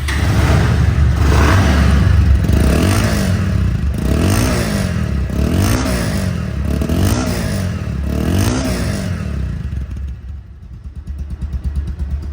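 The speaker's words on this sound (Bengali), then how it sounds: "বাইকটি এখন সাউন্ড কোয়ালিটি শোনাবো।" A 2024 Bajaj Pulsar ABS motorcycle in showroom condition idles and revs, a loud close engine throb with rhythmic swells of throttle every second or so before settling and fading near the end.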